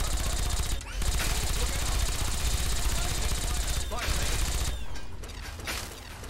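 Rapid automatic gunfire from Fallout 3's Broken Steel content rattles almost continuously in dense bursts, with brief pauses around one and four seconds, then thins out toward the end; a voice may sit faintly beneath the shots.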